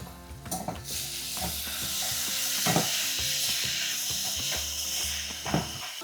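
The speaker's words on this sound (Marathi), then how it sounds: "आपण पहिल्यांदा लसूण आला टाकूया सोबतच कांदा पण टाकू आणि टॅमॅटो पण टाकूया" Garlic, onion and tomato hit a hot pan and sizzle continuously, a loud close hiss running the whole time with stirring scrapes and clatters on top.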